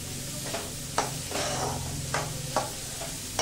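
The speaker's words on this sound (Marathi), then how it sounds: "2 चमचे बटरवरती ह्या सगळ्या भाज्या छान वाफवून घ्यायच्या।" Chopped vegetables for manchow soup sauté in butter in a pan, giving a steady soft sizzle punctuated by a few scraping stirs of a spoon at regular intervals, heard up close.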